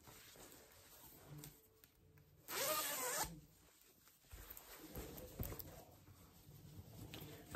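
A zipper pulled along a sewn garment, one brisk close zip followed by soft fabric handling and light tapping, quiet and without talk.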